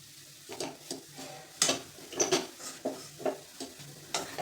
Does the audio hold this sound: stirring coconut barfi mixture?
yes